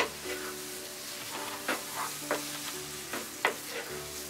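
Raw banana peel bhorta with mustard paste being stirred in a pan with little oil, a steady low sizzle broken by scraping strokes of the spoon against the pan at an uneven pace, close and moderately loud.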